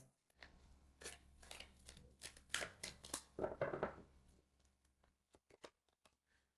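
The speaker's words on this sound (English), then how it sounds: "let's take 3 more cards over here." Tarot cards are drawn and handled from a deck, giving a series of quiet papery snaps, slides and rustles in irregular bursts, close by in an otherwise hushed room.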